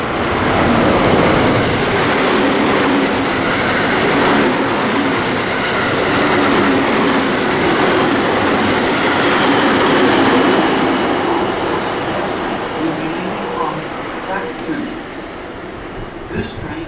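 A JR West Biwako Line train passes through a station platform at speed, a loud sustained roar and rattle of wheels that fades slightly toward the end, with station announcements faintly audible.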